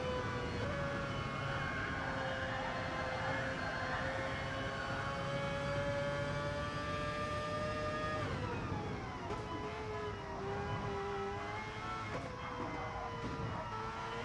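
A Mazda race car's engine in the Dragon Trail Gardens endurance race of a racing video game: a steady high-revving tone whose pitch holds, then drops at a gear change and climbs again, continuous and loud throughout.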